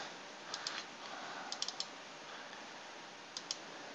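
Mouse clicks on a Windows 8.1 computer come in small clusters of two to four sharp, close ticks over a quiet steady hiss, with no talking.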